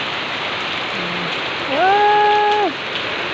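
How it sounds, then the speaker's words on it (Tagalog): Heavy typhoon rain pours down in Manila under a storm signal, a loud constant roar of falling water with a short exclaimed voice over it. "Ayan, ang lakas ng ulan."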